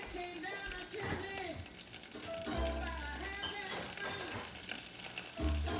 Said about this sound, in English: I'm gonna stir that in there